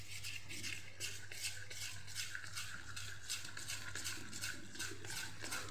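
Dhokla premix batter with buttermilk is stirred in a bowl with a spoon in quick, even, rhythmic strokes, faint and close, over a low steady hum.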